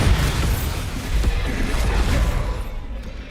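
A Bombarda explosion spell goes off in the video game Hogwarts Legacy, giving a loud, close, rumbling boom that rolls on and then quickly fades away.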